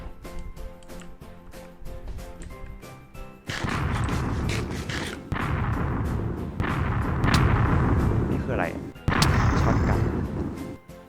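Heavy, continuous gunfire and booming blasts from a zombie survival video game, with dense bursts of shots that swell loud from about three seconds in after a quieter opening, with no talking.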